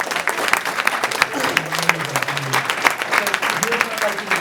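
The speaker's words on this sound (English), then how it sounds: "Can you give Jamie a big round of applause?" A live audience at an NLP demonstration claps in a steady patter of many hands, mid-loud and even, while a voice talks over the clapping throughout.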